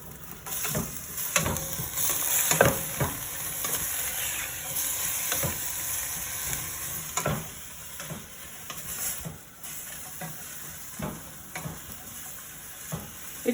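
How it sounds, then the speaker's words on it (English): Celery and onions sizzle and fry in a pan for chow mein, with a steady hiss and repeated scraping stirs tapping at an uneven rhythm, close and moderately loud. "So now you dump in the celery and the onions and you stir that around."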